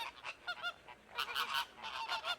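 Honking, squawking bird calls as a storybook flamingo sound effect for a splash into a pond, a quick run of loud, close cries that pause briefly and then burst again, with no talking.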